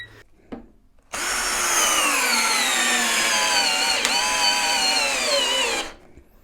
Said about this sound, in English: we've got the brush drill over here